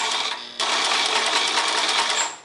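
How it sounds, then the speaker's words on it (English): A sewing machine runs in a steady, fast continuous whir as it stitches fabric for a vintage 1946 Vogue dress pattern, starting abruptly after a short quieter lead-in and sounding close and loud with no talking. "bringing my needle down into place, foot down, and then begin stitching"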